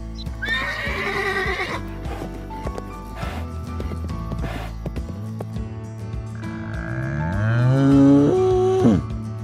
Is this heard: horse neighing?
yes